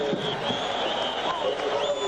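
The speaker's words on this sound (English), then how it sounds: "Crowd has lost none of its enthusiasm." Stadium crowd at the 1982 Rose Bowl football game between Washington and Iowa, a steady roar of cheering and applause filling the whole clip, with tonal whistles or horns riding on top and no break in the noise.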